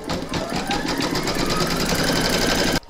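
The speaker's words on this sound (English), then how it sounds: "Load the file into your machine and then you're going to stitch round number one, which is going to give you your placement outline." An embroidery machine stitches a placement outline for an in-the-hoop snowglobe design, a rapid rhythmic needle clatter with a rising whine, close and continuous until it stops at the end.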